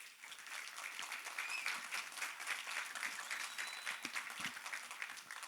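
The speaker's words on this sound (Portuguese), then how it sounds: "Uma salva de palmas para todos." An audience applauds at the close of a long series of speeches at a community event, a steady, dense wash of clapping that stays even and moderately distant throughout.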